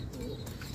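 Pet pigeons coo softly just after feeding, a brief low burbling call heard close up.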